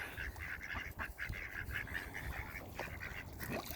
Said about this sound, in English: No shortage of ducks on this creek.